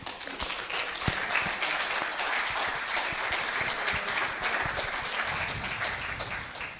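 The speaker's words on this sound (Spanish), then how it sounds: "Un fuerte aplauso para ellos." An audience at a university architecture thesis presentation gives steady, moderately loud applause, many hands clapping together with a few sharper claps standing out.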